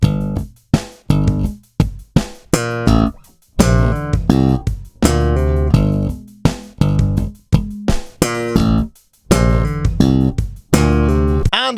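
Slap bass playing a stomp-style line, the more complicated fourth bar of the phrase: sharp percussive plucks and thumps in choppy bursts separated by short silences, close and loud, played alone without talk.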